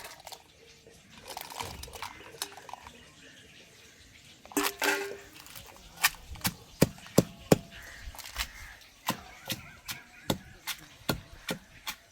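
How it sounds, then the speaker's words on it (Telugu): Tamarind and chillies are pounded by hand, first as scattered knocks, then as a steady run of sharp, evenly spaced thumps close by, each strike clear above a quiet background. "మెత్తగా దంచుకుంటున్నాను, మిరపకాయలు వేసుకుని"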